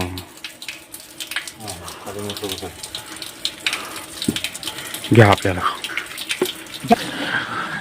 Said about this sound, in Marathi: पाणी येते मशीननं इथे मोटर बसवलेली आहे